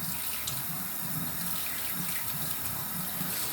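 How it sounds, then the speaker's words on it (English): A tap runs steadily into a bathroom sink during a night-time skin care routine, a constant close splashing rush with no pauses and no voices. "which is why I still have the water running"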